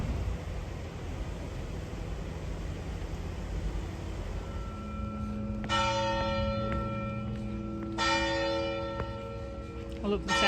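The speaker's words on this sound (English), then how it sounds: "I love the sound of church bells in Portugal." Church bells ring out in the city of Viseu, Portugal, with two clear sets of strikes whose tones hang and ring on over steady outdoor street hum and background noise.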